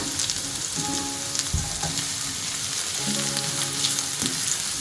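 Chopped onion hits hot oil with garlic in a pan, a steady close sizzle and crackle of frying running throughout, with faint stirring clatters now and then.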